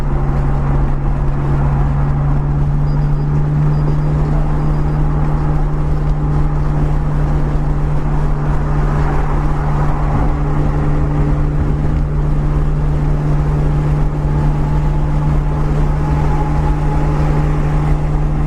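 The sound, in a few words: R32 Skyline GTR driving on the highway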